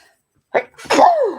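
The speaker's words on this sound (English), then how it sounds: "I'm going to sneeze again" A single loud sneeze, a short sharp intake followed by a burst, close to the listener with no other sounds around it.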